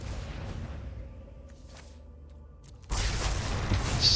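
A heavy blast-like burst from the Corpse Explosion card effect in the digital card game MTG Arena erupts after a quieter stretch of low background music, then holds as a loud, dense roar to the end.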